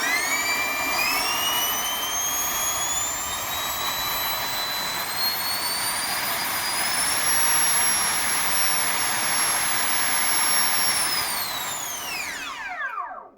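A 105mm electric ducted fan in a 3D-printed Harrier jet with enlarged ducting roars steadily at full vertical thrust, a loud continuous whoosh with a rising whine that holds high, then spools down sharply at the end.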